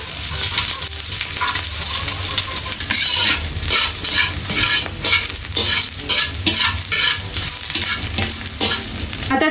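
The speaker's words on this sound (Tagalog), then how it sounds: "Ako po muna ay magigisa po ng bawang at sibuyas." Garlic and onion sautéing in a pan for squid pancit, with a steady loud sizzle and repeated stirring scrapes throughout and no voices.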